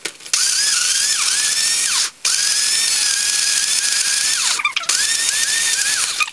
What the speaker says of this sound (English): I'm going to blend.